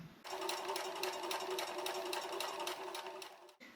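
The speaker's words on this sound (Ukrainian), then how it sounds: "Тепер іду до швейної машини і прокладаю строчку." A sewing machine runs steadily for about three seconds, stitching a seam along a hem edge in a sewing lesson, its fast rhythmic needle pulses close and loud, then stops abruptly with no talking.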